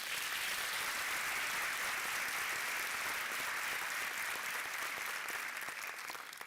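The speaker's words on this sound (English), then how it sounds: "I believe Advocate Morota deserves another round of applause." Audience at a University of South Africa autumn graduation ceremony giving a round of applause, a dense continuous wash of clapping that holds steady and begins to fade at the end.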